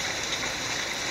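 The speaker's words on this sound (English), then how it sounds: "As you can hear, the rain is just pouring down right now." Heavy rain pours down during Hurricane Matthew, a close, steady wash of hissing water that fills the whole brief moment without a break.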